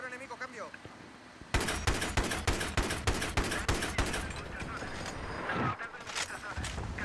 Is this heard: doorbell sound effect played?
no